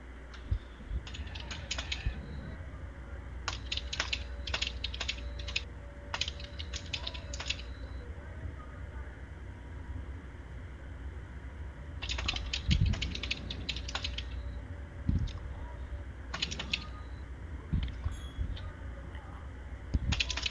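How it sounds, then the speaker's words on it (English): Bursts of clicky keyboard typing come in quick clusters with pauses between, over a low steady background hum. "He's typing, everybody."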